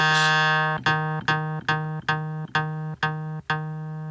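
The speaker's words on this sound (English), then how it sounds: "you can hear it producing that percussive effect." A Studiologic Sledge synthesizer repeats one steady low note about eight times, its filter envelope giving each hit a sharp plucky attack and a rhythmic, percussive feel.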